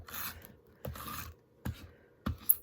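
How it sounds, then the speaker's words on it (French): Three or four short scraping rubs of a glue stick on paper, spaced apart with quiet gaps between them, close and fairly soft. "Désolée pour le bruit, hein, c'est ma colle à chaque fois."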